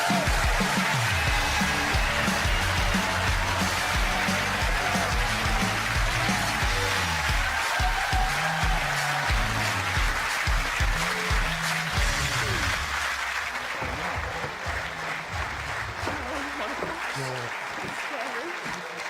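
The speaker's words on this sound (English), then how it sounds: "Give them a huge round of applause." Studio audience of a UK dating show clapping steadily, a broad continuous applause heard under music and overlapping talk, fading a little in the last few seconds.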